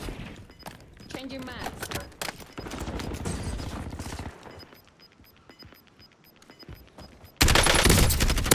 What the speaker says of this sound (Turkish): Arkadaki vuruyor, öndeki vuruyor.